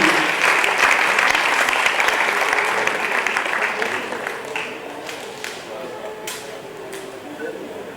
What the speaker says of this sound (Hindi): दोस्तों, 2000 तालियां पंकज जी की